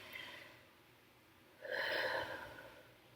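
Slow breathing exercise: a faint breath near the start, then a stronger, airy exhale-like rush in the second half that fades out, close and quiet with no talking.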